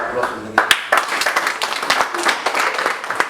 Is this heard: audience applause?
yes